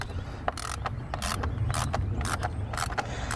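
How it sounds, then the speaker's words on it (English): Ratchet turning an E7 Torx socket on the coil hold-downs of a BMW 550i, a series of quick, close clicking bursts in an irregular rhythm over a low background hum, with no talk. "we're just going to go ahead and get our E7 Torx on these"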